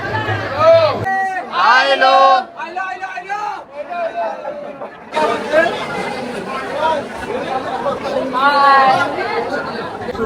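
Busy chatter of a temple crowd at Ekvira, many voices talking at once near and around, with louder bursts of nearby talk against the general hubbub.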